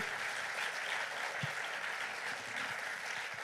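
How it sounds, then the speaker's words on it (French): Applause from a radio show audience for performers from the south-west of France, a soft, even wash of many hands, fairly distant and faint throughout. "Et je vous propose de les applaudir, les talents du Sud-Ouest."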